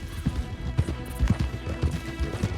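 Horse hooves clip-clop in an irregular trotting rhythm with occasional faint whinnies, heard up close in the open-world western game Red Dead Redemption 2, with no voices over them.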